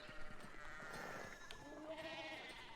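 Sheep bleat in the video game Pentiment, several wavering calls layered over a steady ambient music bed, moderately loud and continuous with no talking.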